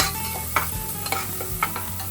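Chopped onion and turmeric fry in a pan for pav bhaji, a quiet steady sizzle broken by a few stirring scrapes and clinks of a utensil against the pan.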